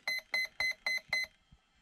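Five evenly spaced, loud electronic beeps from an electronic speed controller, signalling battery cell count, in a steady rhythm, followed by a brief soft click; no voices.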